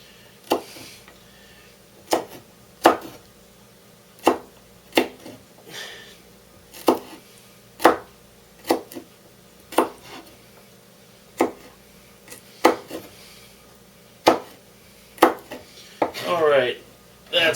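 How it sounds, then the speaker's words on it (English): A knife chops garlic on a cutting board in sharp, separate knocks spaced roughly every half second to a second, close and clear, ending in a brief scraping shuffle. "just keep chopping up little pieces"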